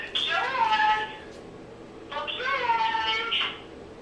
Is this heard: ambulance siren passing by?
no